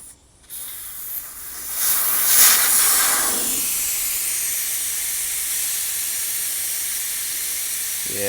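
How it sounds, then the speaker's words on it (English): Air hisses steadily out of a sticking tractor tire valve stem, a loud close rush that swells after a short start and then holds constant for several seconds. "You can see it's sticking because it's letting the air out a little bit."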